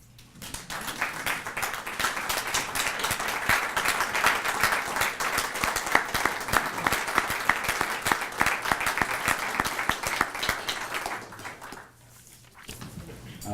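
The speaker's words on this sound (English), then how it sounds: "please stand and applaud those before us" An audience at a kick-off event claps in a steady, dense round of standing applause that runs for several seconds, then thins out near the end.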